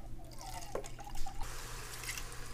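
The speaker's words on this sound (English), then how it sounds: "we're gonna do one can of tomato sauce and one can of water, so it's equal parts" A can of water poured into tomato sauce in a kitchen, with soft drips and a liquid trickle that swells briefly, quiet and close, and no talk.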